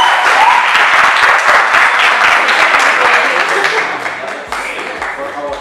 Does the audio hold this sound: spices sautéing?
no